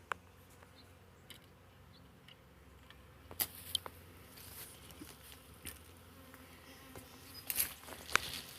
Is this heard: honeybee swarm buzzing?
yes